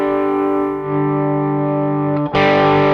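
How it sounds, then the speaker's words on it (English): A sustained electric guitar chord rings through a distortion effect, thick and buzzing, then a fresh strum near the end hits harder and brighter with more grit. "we'll start bringing the gain up to where you start hearing it distort pretty good"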